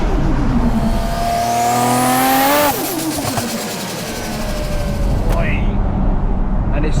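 A 700 bhp Nissan R33 GTR Skyline engine revving hard while driving, rising pitch through the gears to a peak, then a shift and a drop back to a steady drone, loud and close with a voice over it.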